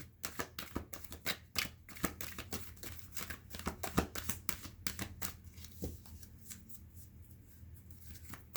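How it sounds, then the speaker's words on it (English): Cards are shuffled with quick papery riffles and snaps in irregular bursts, close up, thinning out toward the end. "I'm going to shuffle one more time"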